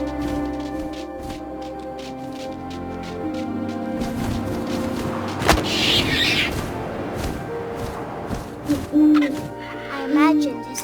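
An owl hoots a few times over wind and a steady musical drone in the game What Remains of Edith Finch, the calls rising briefly and clearly above the ambience.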